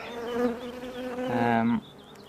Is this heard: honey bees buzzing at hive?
yes